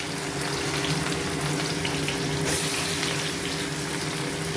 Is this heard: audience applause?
no